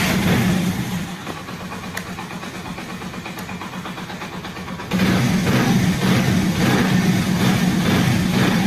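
An Atlas Honda motorcycle engine idles steadily with a rhythmic low putter, then picks up louder and busier after a few seconds, close and alone without talk.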